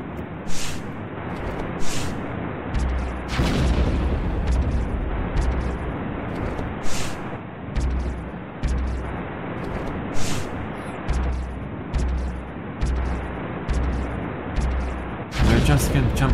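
Cannons fire in a video game, repeated sharp booms at irregular intervals, some in quick clusters, loud and close over a busy noisy background.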